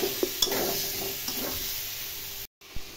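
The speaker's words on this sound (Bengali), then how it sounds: "কষাচ্ছি এখন।" Egg curry is sautéed and stirred in a cooking pan. A spatula scrapes now and then over a steady, gentle sizzle, close up, with a brief dropout near the end.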